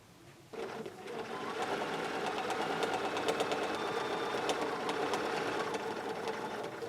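Bernina sewing machine with stitch regulator running steadily while machine-quilting curved lines with rulers, a continuous rapid mechanical chatter that starts abruptly after a brief quiet moment and holds at an even, close level.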